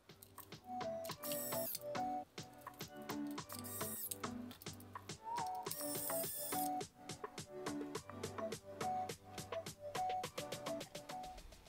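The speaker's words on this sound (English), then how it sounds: "secure it with the small black screws which go through the holes in the base and into the brass standoffs" Small black screws being driven through a base into brass standoffs of a Raspberry Pi 4 case, heard as quiet, close ratcheting clicks in quick repeated bursts with short pauses between turns.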